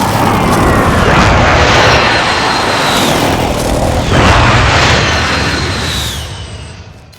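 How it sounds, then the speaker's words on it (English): Precision airstrike explosions in the Warzone video game, loud booming blasts merging into a continuous roar with a fresh impact partway through, then the rumble fading out at the end. "Be advised, friendly precision airstrike inbound."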